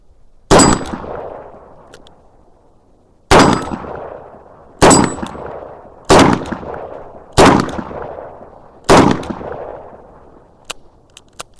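Six sharp, loud shots from a Dan Wesson 715 revolver firing .357 Magnum rounds in single action, spaced one to two seconds apart, each with a ringing decay. No one speaks.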